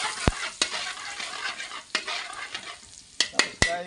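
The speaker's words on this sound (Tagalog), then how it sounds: "lagyan natin ng bawang" Garlic for dinuguan fries in a pan, a close steady sizzle broken by sharp clacks and scrapes as it is stirred, no talking.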